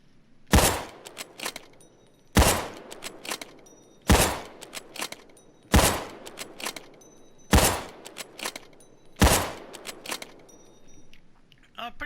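An MSR Rattlesnake sniper rifle in Payday 2 fires six loud, sharp shots at an even pace, each followed by a fading tail and faint mechanical clicks.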